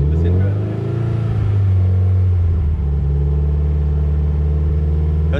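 Loud, close idle of a Subaru Impreza WRX STi boxer engine with sharp cams, a deep lumpy burble that runs unevenly throughout, with a slight dip partway, while people talk over it.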